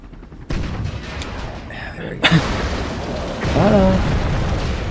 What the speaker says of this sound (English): It's hard to time these tank shots.